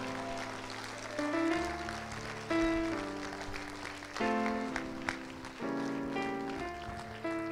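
Hands clapping in sharp bursts over sustained keyboard or organ chords at a church worship service, the claps and music rising and falling together.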